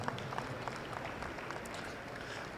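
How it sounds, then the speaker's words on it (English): Light, diffuse applause from an audience at a youth steer show, steady and fairly faint with no clear voices over it. "Let's give them a round of applause"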